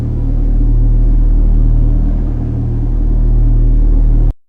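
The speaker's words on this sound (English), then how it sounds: "Scientists recorded this low hum, and it's coming from the entire planet." Earth's microseismic hum, captured with special equipment and made audible as a loud, deep, continuous rumble that holds steady for several seconds and then cuts off abruptly, with no voices.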